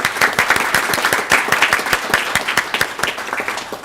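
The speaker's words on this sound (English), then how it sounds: "So let's clap for Miriam too" A crowd at a city council meeting claps for a competitor, dense and fairly loud applause with distinct individual claps standing out in an uneven rhythm, continuing steadily throughout.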